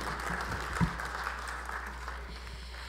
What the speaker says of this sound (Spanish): Un fuerte voto de aplauso.